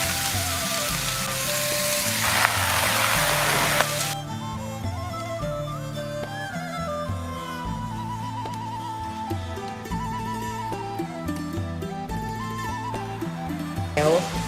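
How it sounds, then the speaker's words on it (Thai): Vegetables being stir-fried with pork in a hot pan, a steady loud sizzle that eases slightly after a few seconds and continues with stirring and clatter underneath. "เราใส่ผักลงไปคั่วกับหมูนะคะ"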